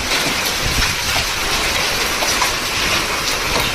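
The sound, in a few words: strong wind and hailstorm rain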